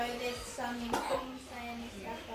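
A single short cough bursts out once, close by, with soft talking-like sounds around it.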